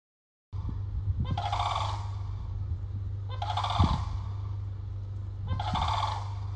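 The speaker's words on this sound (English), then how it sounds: "Even the birds warning to evacuate." A turkey gobbles three times in a steady repeating pattern, each a loud rattling burst over a constant low hum. Fainter bird calls are not evident.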